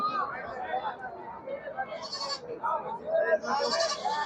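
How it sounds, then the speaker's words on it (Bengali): Black Bengal goats at a crowded goat market bleat repeatedly, close by, amid steady human chatter and talking. "এই যে দেখেন খালি ছাগল আর ছাগল, চতুর্দিকে খালি ছাগল রয়েছে।"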